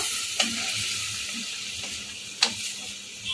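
Paneer curry with two whole green chillies simmering in a pan, giving a steady low bubbling sizzle at moderate distance with a few brief sharper pops and clinks, no voices.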